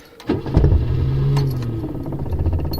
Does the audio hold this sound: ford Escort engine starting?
yes